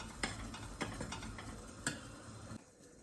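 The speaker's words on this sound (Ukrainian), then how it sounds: "Також все висипаємо сюди і перемішуємо" A spoon scraping and tapping around a bowl while mixing eggs, sugar and other ingredients for a honey cake batter, with a few sharp clinks over a soft, steady swish that stops abruptly near the end.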